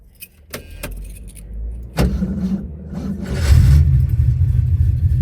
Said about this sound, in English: she's gonna just fire right up